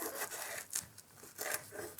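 A knife saws through a grilled sausage for banh mi with a few short, scratchy rasping strokes, close and fairly quiet.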